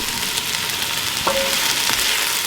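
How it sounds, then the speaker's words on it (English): Onions sautéing in a Ninja Foodi, a loud, even close-up sizzle with a couple of brief clinks, no voices. "we're just going to let this saute for about 4 to 5 minutes"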